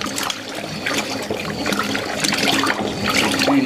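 A Fisher & Paykel Smart Drive GW712 washing machine agitates its load, giving continuous sloshing and churning water with splashes and trickles, steady and close.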